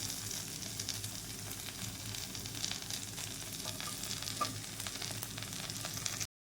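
Potatoes fry in a pan with a continuous, crackling sizzle, fairly quiet and close, running steadily until it cuts off abruptly at the end.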